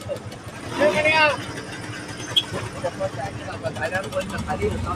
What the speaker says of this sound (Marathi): आवाज भारी आहे गाडीचा